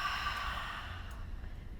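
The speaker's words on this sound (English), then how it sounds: "take another deep breath, please. Elongating through the spine and exhale through your mouth" A deep breath let out slowly through the mouth, one soft airy exhale that gradually fades, close and quiet, with no voice over it.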